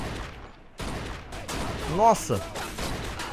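Gunfire in the video game Mafia II, several sharp shots and bursts in a shootout with police, mixed with game sounds and a brief overlapping exclamation from a player.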